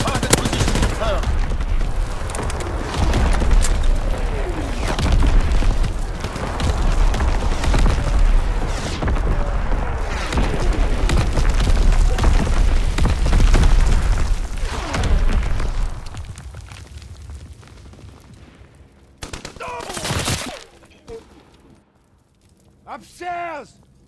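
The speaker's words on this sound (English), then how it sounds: "Fritz X-Bomb mission on the way." Fritz X bomb strikes in Call of Duty WWII, Aachen hardcore team deathmatch: a long barrage of heavy explosions and gunfire rumbling continuously, fading out, then a final loud blast, with game voices heard alongside.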